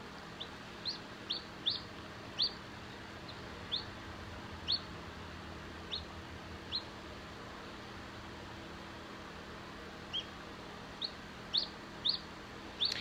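A newly hatched chick cheeps in short, high, sharp peeps at irregular intervals, some in quick pairs, over a quiet steady background hum.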